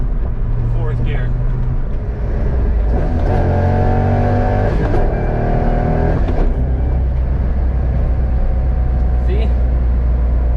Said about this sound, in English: And downshifts as well. Third gear, second gear, third gear, fourth gear.